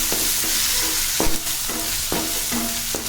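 Sliced onion sizzles in a pan with semolina upma as a spoon stirs it, with several sharp scraping strokes over a steady hiss.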